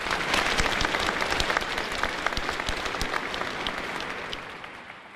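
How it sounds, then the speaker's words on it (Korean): Audience applause for performers at the 74th Liberation Day ceremony, a steady dense clapping throughout that fades slightly toward the end. "다시 한번 공연단 여러분들께 큰 박수 부탁드립니다."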